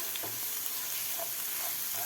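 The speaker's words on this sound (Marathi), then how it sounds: "लसूण आपल्याला थोडासा फ्राय करायचा" Crushed garlic fries in oil for a spicy okra dish. It gives a soft, even sizzle with a few faint clinks, and no one talks.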